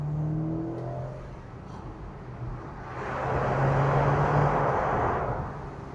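A 2018 Porsche Macan 2.0T with PDK gearbox and sports exhaust valves revs up from inside the cabin, the engine drone swelling into a steady, moderately loud roar after a quieter lull, with no talking.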